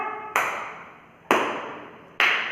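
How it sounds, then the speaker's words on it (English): Three sharp, separate hand claps ring out alone at a steady, unhurried pace, each one bright and close, with a short ringing decay afterward. "Clap."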